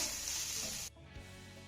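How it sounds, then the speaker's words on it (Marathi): Grated dry coconut sautéing with onion in a pan gives a loud, steady sizzle that stops abruptly partway through and leaves a faint low hiss and a soft clink. "आता हे घातलेलं सुकं खोबरं आपल्याला कांद्याबरोबर दोन मिनिटं चांगलं परतून घ्यायचं आहे"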